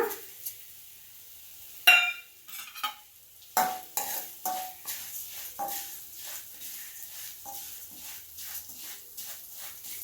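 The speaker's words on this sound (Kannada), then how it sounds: "ಕ್ರಿಸ್ಪ್ ಆಗೋವರೆಗೂ ಗೋಲ್ಡನ್ ಬ್ರೌನ್ ಬರೋವರೆಗೂ ಹುರ್ಕೊಂಡ್ರೆ ಸಾಕು" Vermicelli (shavige) frying in ghee for shavige payasa, a quiet pan with a series of spoon stirs and scrapes, each followed by a soft sizzle, close and intermittent, no talking.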